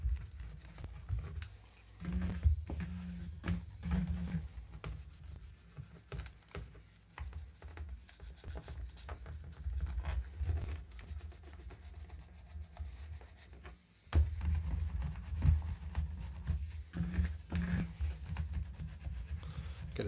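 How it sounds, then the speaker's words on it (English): A small plastic Masters of the Universe Masterverse Beastman action figure has excess brown wash scrubbed off its toes. The result is a continuous close rubbing and scratching with a low, muffled rumble, irregular strokes and a short pause partway through. "Gotta scrub those toes."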